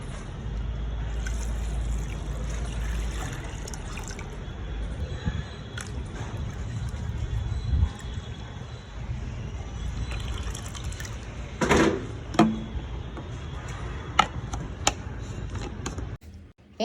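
Water refilling a pigeon's drinking bowl in an office, a continuous hissing stream with splashy, gurgling pour sounds and occasional sharper clunks toward the end, close and steady.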